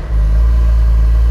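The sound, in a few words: car engine sound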